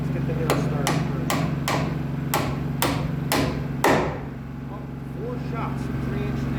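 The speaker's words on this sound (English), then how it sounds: "Let's get the nail started first" Sharp steel hammer blows drive a 3-inch nail, about seven evenly spaced, ringing strikes growing slightly harder before a final heavy hit, close up over a steady low machine hum.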